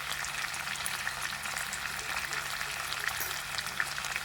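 Curry leaves and a tablespoon of ghee sizzling in a pan of restaurant-style chicken fry, a soft, steady crackling hiss heard at low level without any voices.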